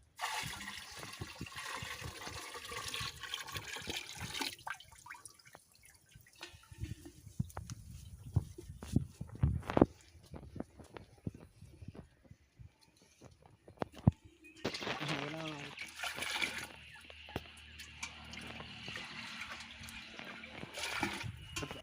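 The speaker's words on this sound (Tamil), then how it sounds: "அதில் வந்து நான் ஒரு 10 லிட்ரு நாட்டு சர்க்கரை கலக்கிறேன்." Ten litres of palm sugar are stirred into 200 litres of water in a 250-litre tank to make waste decomposer, giving a faint, irregular sloshing and swirling of liquid with intermittent splashes that swell again toward the end.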